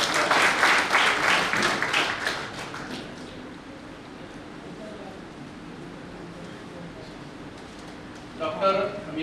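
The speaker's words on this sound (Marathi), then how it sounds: "सरांसाठी सर्वांनी टाळ्या" An audience at a two-day history conference at Shri Shivaji College applauds: dense clapping ringing out loudly at first, then dying away into a quiet room, with a short burst of sound near the end.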